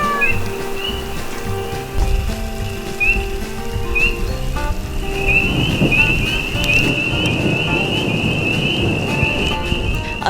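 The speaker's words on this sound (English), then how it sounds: "A thunderstorm did roll in that evening" Steady rain falls on Isle Royale during a thunderstorm, a constant close wash of drops on surfaces, joined by a high whistling bird call. No voices.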